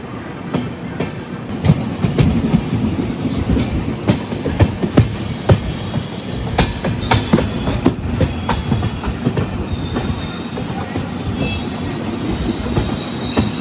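The Howrah–SMVT Bengaluru SF Express runs along the rails near KR Puram, with a steady rumble of rolling wagons, repeated clickety-clack wheel beats and sharp squeals, heard from on board with no voices.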